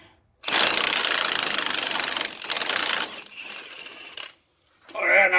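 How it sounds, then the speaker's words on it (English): A pink impact wrench hammers a 35 mm socket against the front axle nut of a 2009 Saturn Vue, delivering two loud rattling bursts separated by a short pause, then a brief quiet before a final burst. "get the big 35 millimeter socket on the pink Ugga Dugga and get this axle nut off"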